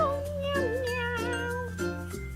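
A voice imitates a cat, giving a drawn-out, wavering meow followed by a couple of shorter ones, close and fairly quiet, as part of a children's story read aloud.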